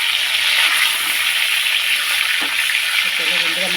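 Meat frying in oil with spice masala, a loud, continuous close-up sizzle that crackles evenly throughout, with a faint voice-like murmur near the end.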